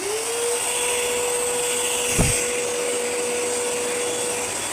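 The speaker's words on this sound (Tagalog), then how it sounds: "Vacuum." A vacuum cleaner whirs steadily at close range with a constant high whine, and a brief thump sounds midway.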